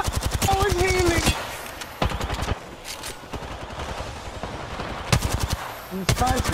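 Rapid automatic gunfire in a video game, bursts of loud sharp shots with brief pauses, steady combat noise throughout, no talk heard.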